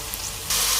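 Ginger tipped into onions browning in hot oil for fish pulao: a close, steady frying hiss that jumps suddenly louder halfway through, with no voices.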